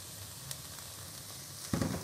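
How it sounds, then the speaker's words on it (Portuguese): Chopped garlic dropped into onions frying in a pan, a soft steady sizzle that swells into a brief louder crackle near the end, with no voices. "Agora que já a cebola está ficando transparente, vou colocar 3 dentes de alho picado."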